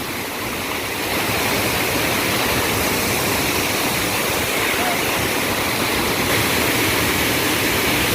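A powerful forest waterfall in Kerala roars continuously, a dense, loud rush of falling water filling the whole scene without pause.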